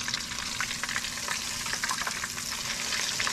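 Whiting fish fries in oil with a bright, crackling sizzle, busy with rapid pops and spatters, steady and close throughout.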